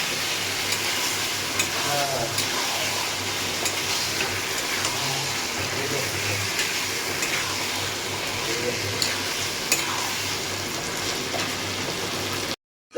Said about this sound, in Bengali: মেরিনেট করে চিকেনটাকে দিয়ে দেবো ভালো করে নাড়াচাড়া করে নেব